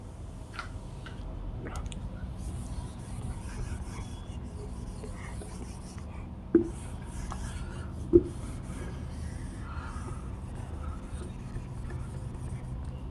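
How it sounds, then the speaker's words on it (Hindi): A pencil eraser rubbed across a paper map, a steady close scratchy rasping that runs the whole time, broken by two sharp taps, with a voice talking quietly in the background. "ये हम इरेज कर दे रहे हैं।"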